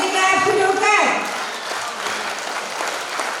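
An audience claps at a school annual day: dense, continuous applause from a large crowd filling the hall, following a fading musical tone at the start.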